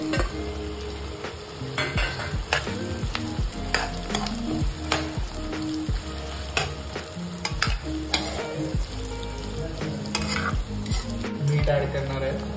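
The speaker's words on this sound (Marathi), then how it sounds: "आपण जिरे टाकलेले आहेत, कढीपत्ता टाकलेला आहे, हिरवी मिरची आणि कांदा टाकलेला आहे। हे प्रॉपरली आपण सगळं फ्राय करून घ्यायचं।" Cumin, curry leaves, green chili and onion fry in a pan with a steady sizzle, broken by repeated clanks and scrapes of a stirring spoon, close and fairly loud, with no talk.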